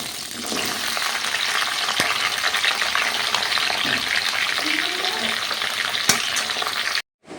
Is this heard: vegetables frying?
yes